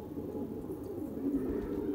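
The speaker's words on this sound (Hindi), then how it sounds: "ये देखो ये अपना न्यू कबूतर है भाई लाल।" Pigeon cooing from a newly bought red pigeon, a low steady cooing murmur running continuously close by with no talk.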